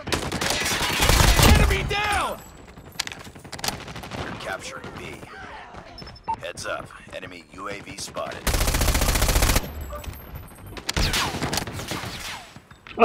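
Bursts of ISO submachine gunfire in a Call of Duty Mobile match, loud rapid volleys at the start and again near the end, with quieter game sounds between.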